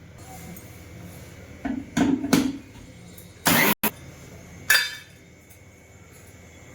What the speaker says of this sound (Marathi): हे लोणच्याच्या खापांना चांगलं चिटकतं म्हणून बारीक वाटून घ्यायची मोहरीची डाळ